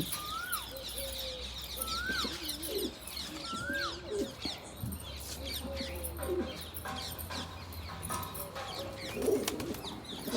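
Pigeons kept with newly hatched chicks coo in a low murmur while clearer rising bird calls repeat at intervals across the first half, fading into a busier, steady background of bird sounds later.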